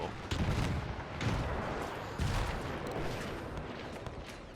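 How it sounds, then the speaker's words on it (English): Artillery shells landing in a World War One battle game, a dense, roaring barrage of heavy explosions arriving in repeated waves about a second apart, loud and continuous with no pause. "Artillery landing all over the place."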